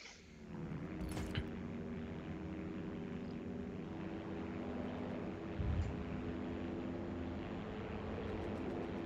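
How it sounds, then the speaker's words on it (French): A propeller airplane engine in a combat flight video game drones steadily and loudly throughout. It holds a constant rough hum with a brief swell near the end, and no voices are heard. "Il y a un avion là."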